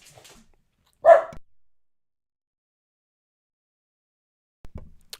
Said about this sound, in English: sorry, my dog was barking over here.